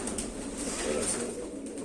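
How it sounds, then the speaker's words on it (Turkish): Sivas doves coo softly in a short, faint murmur, with low steady ambience and a thin high note among them. "Bunlar da Sivas kumrusu gibi duruyor."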